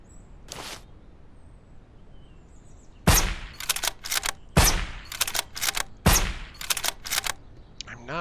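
Suppressed M2010 rifle shots in the zombie survival game Surroundead, a string of sharp muffled cracks, one early, then a run of shots in quick uneven bursts, close and loud over faint background ambience.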